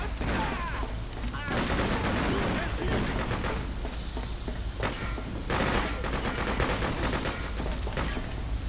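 Dense bursts of gunfire and explosions in the PC video game Freedom Fighters, loud and continuous with overlapping rapid shots, with shouting voices mixed in throughout.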